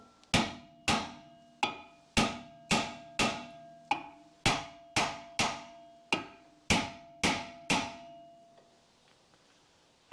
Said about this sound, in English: The disc is scrap, so I'm just going to give it a bit of a hammering to hopefully crack that loose.